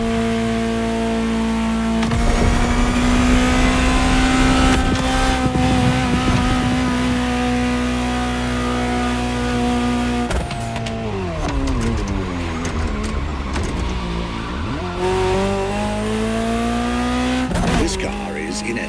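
A Ferrari GTO, the Gran Turismo Omologato, revving in the racing game The Crew Motorfest, its engine holding a loud steady whine before dropping and climbing again through gear changes, with a voice talking over it.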